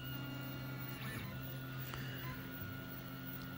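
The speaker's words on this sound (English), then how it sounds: "Here we're printing it using 10 rings around the brim." A 3D printer lays down a polypropylene part with a ten-ring brim on a cold bed, giving a steady, faint mechanical hum with soft stepper-motor whines and small shifting clicks throughout.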